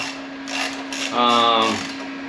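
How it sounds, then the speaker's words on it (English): A new fairing and headlight are bolted down on an MB200 motorcycle, with a short mechanical whirring whine rising for about half a second over a steady background hum, close by, as someone talks. "So basically, I'm just going to bolt this down for right now."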